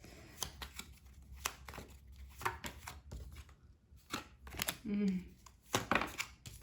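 Tarot cards being shuffled in short riffling and flicking bursts, close and fairly quiet, with someone speaking over and between them.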